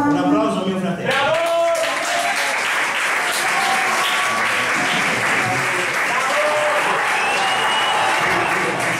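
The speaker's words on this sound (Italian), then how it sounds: "Ale, ti prendi un applauso" Festival crowd at a town feast applauding a contestant in a lip-sync game run by a DJ: sustained, dense clapping throughout, with voices mixed in near the start.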